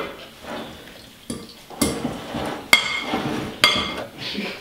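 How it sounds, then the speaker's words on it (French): Penne pasta is stirred through vodka sauce in a pot, with several sharp utensil knocks against the pan over soft, wet mixing sounds. "tu vas rajouter ta sauce à tes pâtes. Et tu vas tout simplement mélanger."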